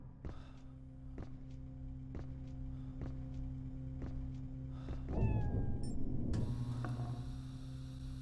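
A cat in Echo Night: Beyond gives a drawn-out meow partway through, set against a steady mains-like hum and regular ticking like a clock. A louder noisy swell follows, with no speech.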